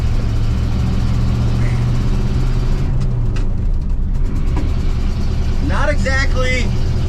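A car runs along a road in third gear with a loud, rumbling engine and rattly cabin noise throughout, while a person talks over it.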